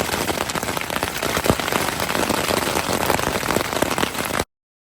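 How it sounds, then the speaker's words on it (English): Heavy rain at a backcountry campsite in Montana's Bob Marshall Wilderness, a dense, loud, steady patter of drops on a nearby surface with sharper individual splats, cutting off abruptly. "I know I showed you a little clip of rain."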